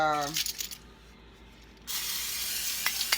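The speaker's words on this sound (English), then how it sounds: "I'm gonna just go ahead and spray these pans" A short, steady hiss of aerosol cooking spray into cake pans, following a brief clink and rattle of pans nearby.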